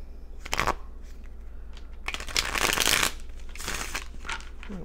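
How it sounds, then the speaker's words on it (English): Tarot cards are shuffled by hand in several bursts, crisp riffling rustles that come close and fairly loud, with a longer flurry in the middle and quieter handling between, over a low steady hum. "one more shuffle. I like those shuffles."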